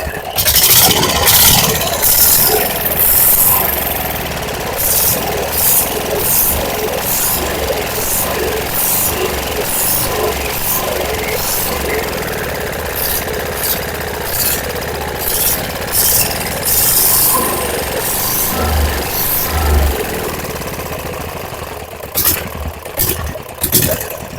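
A diesel engine from an Ape auto rickshaw, mounted on wooden blocks, runs steadily at close range with a loud rhythmic beat and a few sharper knocks over about twenty-five seconds.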